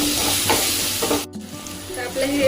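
Tomato and onion sauté with a pinch of salt in a hot pan for vangyache bharit, a steady close sizzle with stirring scrapes that drops out for a split second midway, then resumes.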